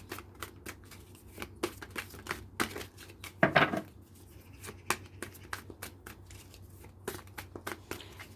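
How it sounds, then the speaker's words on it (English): Tarot cards are shuffled quietly in soft, rapid riffles and taps during a reading, with one louder crinkling burst partway through, all faint and close. "please forward any shuffling"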